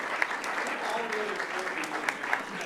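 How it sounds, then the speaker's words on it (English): A crowd claps steadily and enthusiastically at a city council meeting, a dense wash of applause with a few sharper individual claps standing out. "Let's give them another round of applause."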